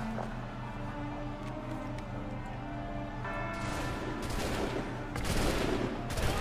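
Musket volley gunfire from the Assassin's Creed III video game, a dense crackling fusillade of overlapping shots over a steady low in-game rumble, growing louder toward the end.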